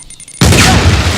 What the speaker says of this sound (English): So let's use our grenade. Aim and fire.